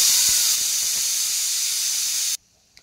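Pressure cooker on a home stove releasing steam through its whistle while cooking vegetables for huli gojju: a loud, steady hiss lasting over two seconds, then cutting off abruptly, followed by a faint click.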